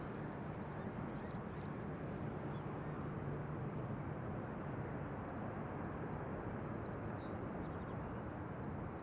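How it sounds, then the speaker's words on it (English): A British Airways airliner arrives at Amsterdam Schiphol from London Heathrow, a continuous low jet rumble with a faint tonal drone, steady and somewhat distant, heard alone. "BA arriving from London Heathrow."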